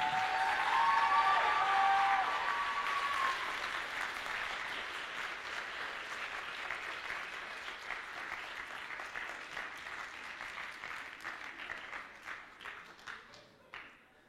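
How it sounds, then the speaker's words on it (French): A crowd at a cosplay contest applauds a performer's first stage appearance, opening as a dense, full round of clapping with an electronic tone, then thinning slowly into scattered individual claps that trail off. "Je pense qu'on peut bien l'applaudir pour sa première presta."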